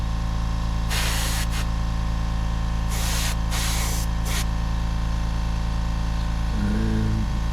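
An airbrush sprays Vallejo Model Air paint onto a plastic model in short hissing bursts, about four separate sprays of a second or less, close over a steady compressor hum.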